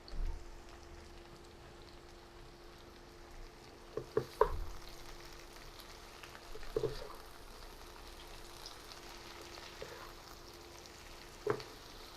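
Okra frying in a pan with green chilies and salt over medium heat, a quiet continuous sizzle with a few faint scattered scrapes from stirring.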